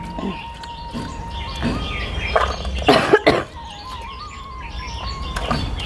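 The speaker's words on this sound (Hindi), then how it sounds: "खांसी हो गया" A short burst of coughing in the middle, over a steady background hum with faint bird chirps around it.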